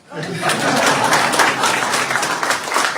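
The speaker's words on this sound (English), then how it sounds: "Can we give him a round of applause?" A round of applause from the audience at a memorial lecture in Dominica, swelling quickly into dense, sustained clapping with a few chuckles mixed in.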